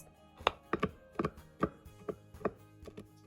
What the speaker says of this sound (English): Take one piece from this dark chocolate and then chop them into small pieces.